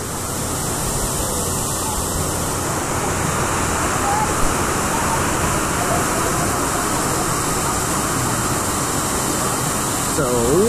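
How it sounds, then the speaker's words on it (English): A waterfall at Discovery Cove in Orlando roars as a loud, steady, close rush of falling water that fills the whole stretch without letup. "we go through another waterfall, which is the other side"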